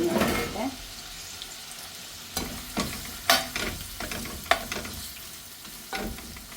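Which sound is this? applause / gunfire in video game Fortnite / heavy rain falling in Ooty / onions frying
onions frying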